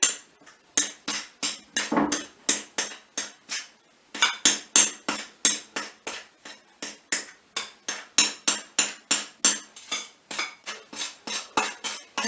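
A knife cutting fat into flour for pastry, steady rhythmic clinks of the blade against the mixing bowl, close and repeated dozens of times with a brief pause partway through.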